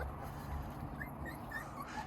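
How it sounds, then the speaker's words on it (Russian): West Siberian Laika puppies whimper and yip softly, with a few thin, high cries spread across a couple of seconds over a quiet room background. "Они уже и лают, и скачут, и пытаются вылазить."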